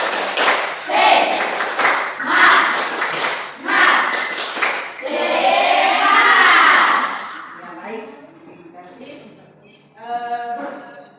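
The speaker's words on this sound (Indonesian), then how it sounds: "Tepuk semangat." A class of schoolchildren performs a rhythmic spirit clap in a bursts-and-pauses pattern, loud and close, giving way to chanting voices near the end.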